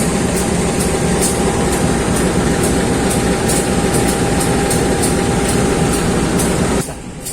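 Steady, loud rumble inside a new-generation economy class carriage of the Indonesian Mataram train to Cirebon, with faint rhythmic clicks over the rails and a slight dip near the end.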